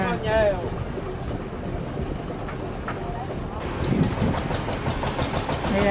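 A fishing boat engine runs at a seafood market harbor in Tien Giang Province, Vietnam, a steady low rumble with wind noise, while people talk nearby over it.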